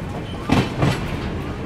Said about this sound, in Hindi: सामने है मोकामा पटना पैसेंजर ट्रेन।